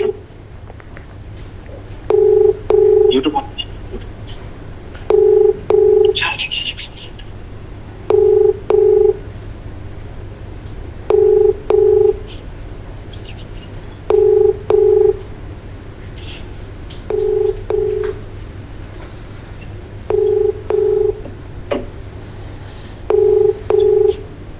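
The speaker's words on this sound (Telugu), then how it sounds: "రాచకొండ సిపి సుధీర్ బాబు ఐపీఎస్ గారికి కూడా కాల్ చేస్తున్నాను" Ringback tone of an unanswered outgoing phone call, repeated paired beeps about every three seconds, loud and steady over a low background hum.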